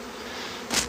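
Honey bees from a swarm at the hive buzz in a constant drone, with one bee passing very close and loud near the end.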